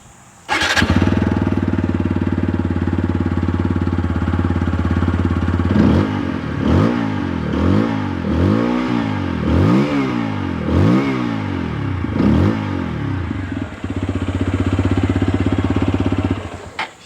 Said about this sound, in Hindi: चेक करते हैं साउंड अब यहाँ पर अपाचे का।